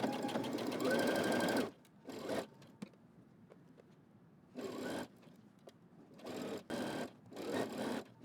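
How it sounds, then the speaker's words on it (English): A sewing machine stitches a neckband onto a t-shirt with a half-inch seam allowance, loud whirring bursts of rapid stitching separated by short pauses, starting with a long run and then several shorter ones. "I'm gonna stitch all the way around using a 1/2 inch seam allowance."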